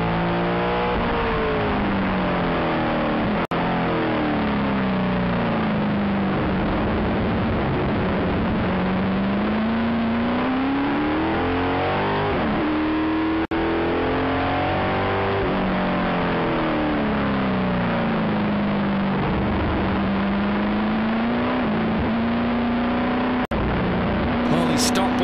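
Stock-block Formula 5000 race cars of about 650 horsepower accelerate around a racetrack, engines rising and falling through repeated gear changes in a loud continuous drone, with a commentator talking over them.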